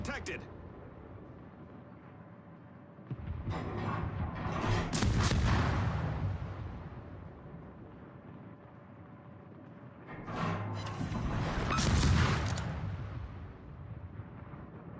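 Warship main battery salvos in World of Warships boom twice, each a heavy rumbling blast that swells and fades over a few seconds, under steady live commentary.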